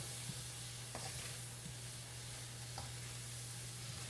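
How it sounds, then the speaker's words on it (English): Food stirred in a sizzling pot after heavy cream goes in, a steady broadband sizzle with a low hum beneath and a few soft scraping clicks of the spoon, close and continuous with no talk. "We're gonna give that a stir."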